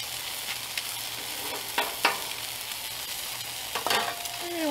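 Eggs fry in oil in a pan with a soft, steady sizzle, broken by a few sharp crackles and pops, heard close up with no talking.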